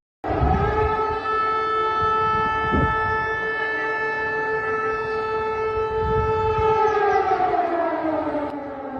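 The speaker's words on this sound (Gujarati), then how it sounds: "જો તમારા વિસ્તારમાં પણ આવું સાયરન વાગે તો ગભરાશો નહીં" A loud, steady wailing civil defense air-raid siren in Gujarat, with layered harmonic tones, holds for several seconds, then its pitch slowly droops near the end. No voices.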